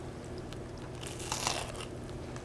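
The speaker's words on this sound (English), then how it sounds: "It's got a nice crunch to it." Someone bites into a crispy turkey panini with mustard and cranberry, giving a close, bright crunch that peaks in a short burst midway and then tapers off over a steady low room hum.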